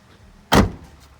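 A 2003 Ford F250 Super Duty truck door swings shut with a single loud, solid latching thunk, close by, followed by a brief fading rattle in an otherwise quiet setting.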